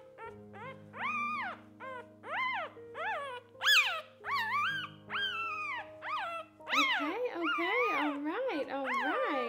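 Petite-mini goldendoodle puppy whimpering and yipping in a rapid series of high, rising-and-falling cries, close and fairly loud, with a low steady hum underneath.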